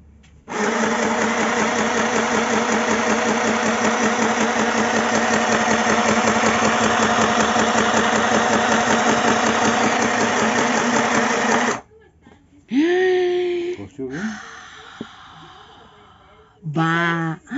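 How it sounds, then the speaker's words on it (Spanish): A domestic sewing machine runs steadily for about eleven seconds, loud and close, with a fast, even stitching whir. After it stops there are handling noises and brief bursts of sound. "Es una máquina de coser"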